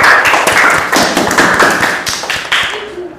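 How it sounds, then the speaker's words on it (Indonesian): A classroom group claps together for the second group of students, a dense burst of close, loud hand claps that gradually thins and fades over a few seconds. "Beri tepuk tangan untuk kelompok 2."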